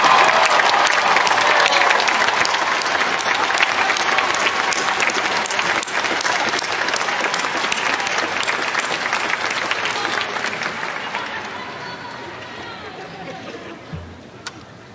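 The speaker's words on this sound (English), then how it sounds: "Let's have a round of applause for all the mothers here." A commencement crowd at UNC Chapel Hill bursts into sustained applause for mothers, dense loud clapping that gradually thins and fades toward the end.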